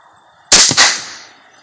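A rifle fires at an Asian carp in the water: one loud, sharp crack that snaps out of silence, followed almost at once by a second burst, then a ringing tail fading over about a second.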